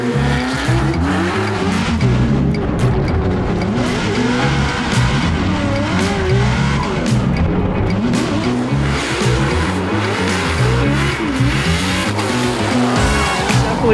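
A race car running hard around a lap of a patchy, partly wet and partly dry track, its engine roaring loud and steady with rising and falling revs and bursts of tire squeal throughout.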